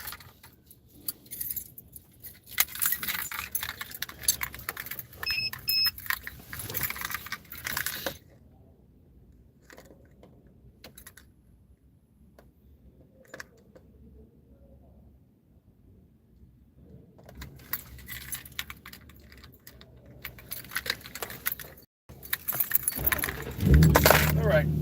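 Keys jangle and clink in bursts inside a truck used for van life, with rustling and handling noises, quieter gaps between, and a voice faintly present at times.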